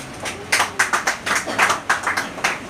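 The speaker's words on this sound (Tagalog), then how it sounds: "palakpak niyo po kay Lord yan" An audience at a church gathering claps hands together in praise, in a steady series of about a dozen sharp, close claps with brief pauses between them.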